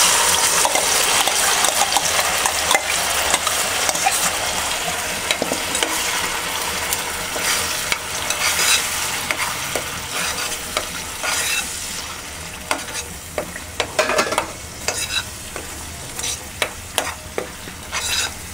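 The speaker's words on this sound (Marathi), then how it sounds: "तेल आता आपलं चांगलं तापलेलं आहे, तर आपण हा मसाला आहे तो फोडणीला घालूया." Masala spices frying in hot oil for a Goan-style hilsa fish curry, a loud, steady sizzle with scraping and clinking of a spoon stirring against the pan throughout, no talk.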